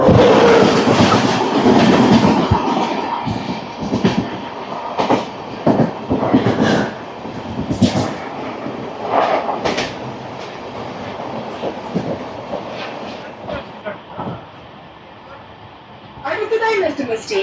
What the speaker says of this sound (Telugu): మన అమృత్ భారత్ అయితే ప్రెసెంట్ 95 km/h అయితే స్పీడ్ మెయింటైన్ చేస్తుంది.